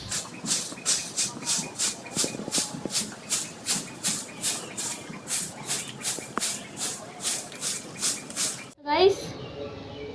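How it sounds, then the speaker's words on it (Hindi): Rhythmic dry swishes of a broom sweeping a doorway, about twenty even strokes close by, ending in a brief knock and clatter. "मैं द्वार पे झाड़ू मार रही हूँ"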